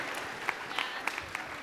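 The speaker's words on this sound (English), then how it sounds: "Can I get a round of applause, please?" Audience at a senior Christmas chapel service claps in a short burst, with sharp individual claps over a soft crowd bed, fairly close and brief.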